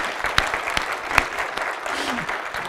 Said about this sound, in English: Well, you get to clap, and let's just give them a hand.